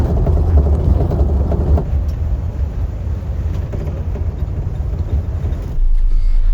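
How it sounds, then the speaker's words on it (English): Steady engine rumble and road noise from inside a bus on the short ride into Port Ellen on the Scottish island of Islay, continuous and fairly loud, with a slight dip midway and no talking. "Eventually the bus did show up, and it's a short ride into Port Ellen."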